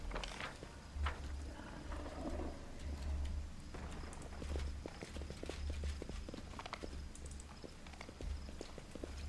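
Horse hooves clip-clop in Pathfinder: Wrath of the Righteous, a steady rhythmic trotting close by, moderately loud over a low rumbling game ambience, with no talking.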